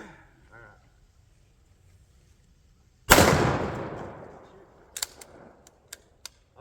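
A firearm fires a single loud shot at an outdoor range on a hill, the blast decaying over about a second, followed by several sharp, quieter clicks and pops spaced apart.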